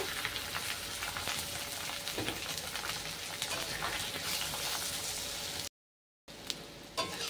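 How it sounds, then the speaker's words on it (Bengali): Fish roe frying together with potatoes in a pan, giving a steady, close crackling sizzle throughout, broken by a brief silent gap before the frying resumes. "আলুর সাথে ডিমটাকে খুব ভালো করে ভেজে নেব।"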